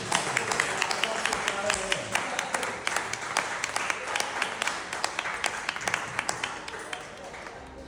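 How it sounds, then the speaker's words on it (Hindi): Audience clapping at a birthday celebration, a dense, continuous crowd applause of many hands with crisp individual claps standing out, steady throughout and gradually easing near the end. "आप इसी बात पे हमारी वाइफ के लिए ताली बजा दीजिए"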